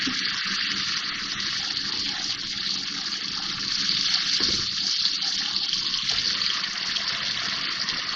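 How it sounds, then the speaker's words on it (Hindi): Water gushes steadily into a pan of chickpea curry for halwa puri, a continuous close pouring rush with no talk. "थोड़ा सा पानी डाल दूँ।"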